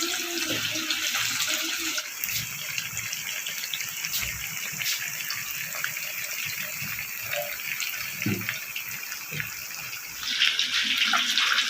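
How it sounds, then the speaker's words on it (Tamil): Marinated fish frying in hot oil makes a steady, dense sizzle and crackle that runs throughout, getting louder toward the end, with a few faint sounds from the pan and no talking. "இப்போ இதை வந்து நம்ம எண்ணெயில் பொரிச்சிக்கலாம்"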